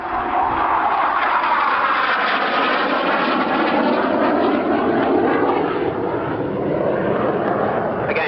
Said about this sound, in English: This aircraft here, inverted turn.